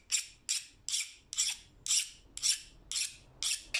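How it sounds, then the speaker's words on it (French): A metal file scrapes across a bar of hardened carbon steel quenched in water, nine even rasping strokes in a steady rhythm, close and crisp, with no talking. "On entend que la lime glisse bien sur l'acier."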